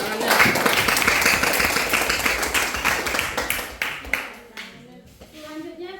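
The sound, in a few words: audience clapping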